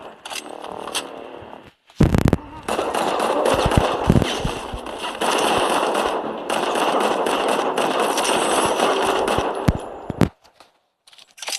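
Rapid automatic gunfire from the shooter video game Modern Combat 5, loud bursts of sustained firing nearly continuous for several seconds, with a few sharp single shots at the start and end.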